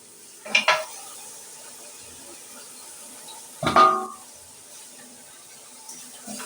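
Meat and bones tipped into fried masala for a haddi gosht curry: two short, sharp bursts of sizzle and clatter, about three seconds apart, in an otherwise quiet kitchen.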